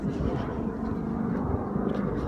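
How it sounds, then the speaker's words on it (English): A rescue helicopter flies overhead after the Kumamoto, Japan earthquake as a steady, moderately loud low rumble, with faint voices in the background. "Rescue from chopper over top."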